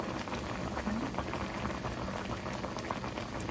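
Eggplant curry, cooked hill-tribal style with added broth, simmers in a pot, giving a steady close bubbling and gentle popping with no voices throughout.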